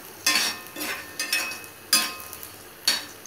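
Chopped pirandai (adamant creeper) being sautéed for thuvayal in a home kitchen pan, heard as a few separate scraping stirs of a spoon against the pan over a faint low sizzle.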